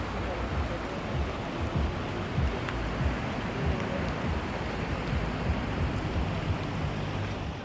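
Broad steady rush of a river flowing right alongside a riverside path in the old town of Schwäbisch Gmünd, Germany, a continuous close, even wash of water noise with no pauses.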